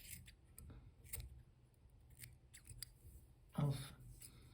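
Scissors snip away excess fur and feather from a foam Zonker mouse-rat fishing fly during fly tying, giving a few short, close, crisp cuts with one sharper snip near the end, over a quiet room hiss.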